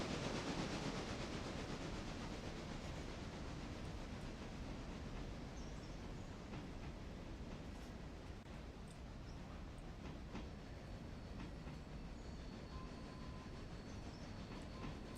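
A modded logging locomotive in the Railroader game rolls along the track around a corner, a steady dense rumble and clatter of wheels throughout, loud and continuous with no talk.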